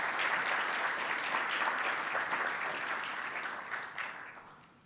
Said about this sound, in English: Please give him another big round of applause.